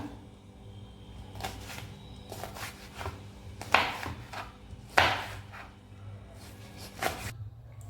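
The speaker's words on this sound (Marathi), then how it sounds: "आता आपण हिरवी मिरची कट करून घेऊया" A knife cutting green chili on a board in a home kitchen, giving a few sparse, sharp thuds and scraping clicks spread irregularly over several seconds, close but fairly quiet, with no talking.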